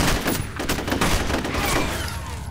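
Rapid gunfire in the shooter game F.E.A.R., loud close bursts of automatic shots crackling in quick succession with no voices over them.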